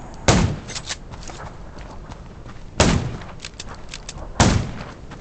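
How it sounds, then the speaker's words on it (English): Three loud, sharp gunshots from the zombie survival video game Undawn, spaced irregularly with a gap of over two seconds between the first two, each cracking out over a steady background hum. "Gunshots will attract more zombies."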